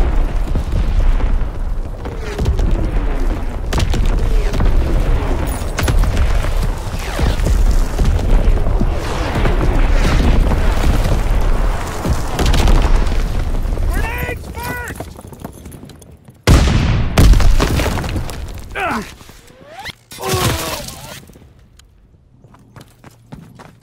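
Naval primary battery guns fire in Call of Duty WWII, heavy booms and blasts rolling over a dense battle din, with radio-style voices now and then and a sudden loud impact near the end.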